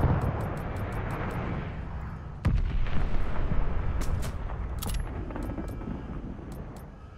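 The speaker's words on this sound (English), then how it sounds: "Allies called an airstrike. Watch your head. Friendly glide bomber incoming." In a video game, a glide bomber airstrike brings a sharp blast followed by a deep, rumbling roar that fades slowly, with distant crackling impacts in the background.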